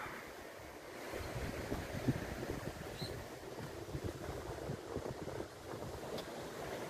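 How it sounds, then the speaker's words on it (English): Waves rolling in on the shore at Emu Park, a steady soft wash of surf heard from a distance, with breezy wind noise on the microphone and no talking. "The waves just rolling in."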